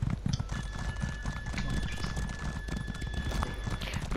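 Horse hooves clip-clop steadily in The Elder Scrolls Online during a crowded ride, a continuous close trotting rhythm with game ambience and many creatures around, no voices.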